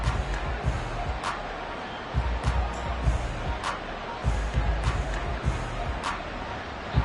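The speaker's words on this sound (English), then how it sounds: "this crowd doing their best to make a lot of racket" A football stadium crowd keeps up a steady roar of racket during a third-and-five play, broad and continuous with scattered louder swells, heard alone without commentary.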